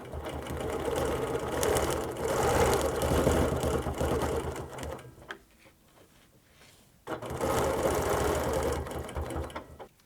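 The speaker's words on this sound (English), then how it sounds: "Now I'm doing it on my Q20, but you can do it on any sewing machine," A Q20 sewing machine stitches quilted clamshell circles in long continuous bursts, a steady close mechanical hum that pauses for about two seconds mid-way before running again.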